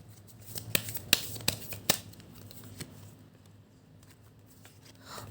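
Tarot cards are shuffled close by in a series of sharp riffling snaps and soft flicks, with no talking, then quieter handling noise.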